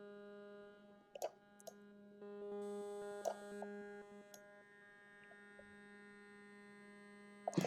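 Voxglitch Ghosts granular synth in VCV Rack at higher grain density produces a faint, steady humming drone with a smooth buzzy texture, broken by a few soft clicks and short swells.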